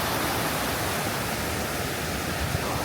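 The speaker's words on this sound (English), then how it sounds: "Get another look of the waterfall over here." A waterfall in late fall rushes in a dense, continuous hiss and roar at close range, steady throughout with no speech.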